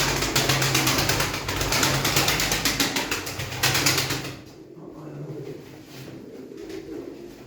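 A two-year-old male pigeon coos steadily at close range with bursts of wing flapping over the first half, then softer cooing continues alone.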